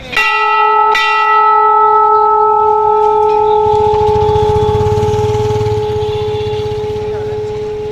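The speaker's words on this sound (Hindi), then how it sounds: "बाकी इस जगह आप देख सकते हो कि एक घंटा लगा हुआ है।" A large temple bell at Saryu Ghat in Ayodhya is struck twice near the start, its loud ringing tones sustaining and slowly decaying over a riverside background murmur with low rumbling noise.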